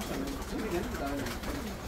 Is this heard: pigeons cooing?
yes